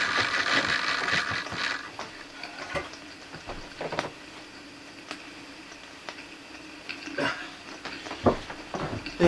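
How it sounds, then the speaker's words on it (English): A Meccano ploughing winch drum built for a Mamod traction engine pays out its cable with a continuous mechanical ratcheting clatter, close up, with sharper ticks and clicks rising out of the steady whirr. "Just running out the cable again."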